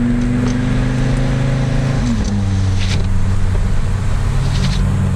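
In sport mode, a 2023 Audi RS3 engine drones steadily from inside the cabin, dipping in pitch at one point before settling into a deeper, rougher hum, with no talking.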